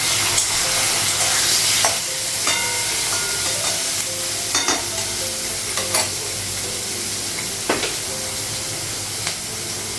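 Whole cumin seeds and green chillies sizzle and crackle in hot oil with a steady frying hiss, broken by occasional stirring clinks and scrapes in a home kitchen.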